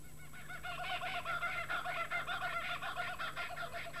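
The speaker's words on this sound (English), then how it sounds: "The kookaburra woke Moonbi at dawn." A kookaburra at dawn, heard as a loud, continuous cackling chorus of rapid repeated hoots and laughs running throughout, with a steady low hum beneath.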